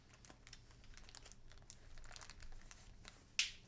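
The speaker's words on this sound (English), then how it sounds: "Now I'm dropping the keycaps." Plastic keycaps from a mechanical gaming keyboard being built by hand are dropped and shuffled. Faint, scattered light taps and crinkles end in one sharper, brighter clack near the end, with no talking.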